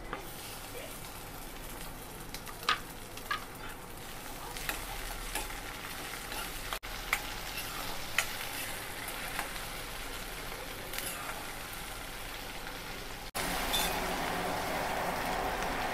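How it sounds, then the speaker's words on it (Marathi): Onion and tomato sautéing in an oiled pan for an egg masala, a continuous close sizzle with occasional scraping stirs and a louder, brighter hiss toward the end. "कांदा ब्राऊन होईपर्यंत परतून घेते आणि कांदा थोडा नरम पडला की लगेच त्यात टोमॅटो घालून घेणार आहे"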